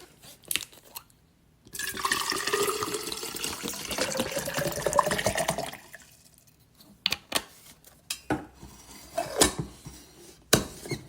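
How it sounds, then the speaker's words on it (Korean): Water runs steadily from a tap for about four seconds, then gives way to scattered drips, splashes and light clinks, heard close with no talking over it. "맞아, 물소리."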